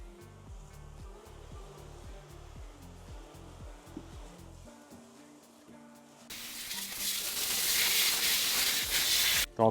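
Water spray rinsing a car just coated with ceramic spray sealant, a steady broad hiss that swells louder and brighter partway through as the stream closes in, with lighter spattering before it.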